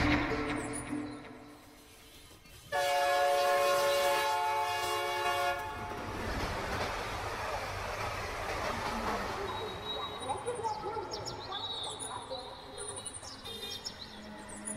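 A train passes as a sound effect in an audio story set at a rural railway station: a loud, steady rumble with strong harmonic horn-like tones rises abruptly, then fades into mixed clatter and softer background noise.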